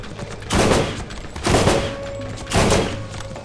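Gunfire from the video game Borderlands erupts in three loud, close bursts about a second apart, each a dense rattle of shots fading quickly.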